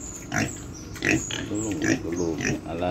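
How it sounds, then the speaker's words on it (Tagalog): Pet pigs being raised at home grunt and snort close by in a series of short oinking bursts about every half second, some drawn out, with a person talking softly in the background. "Yung mga alaga naming baboy."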